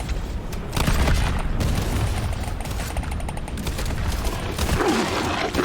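High-explosive grenades going off in the video game Deep Rock Galactic: Survivor, a dense, continuous barrage of booming blasts and crackling gunfire, loud and close throughout with no pauses.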